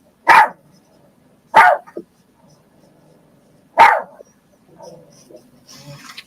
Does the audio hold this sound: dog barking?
yes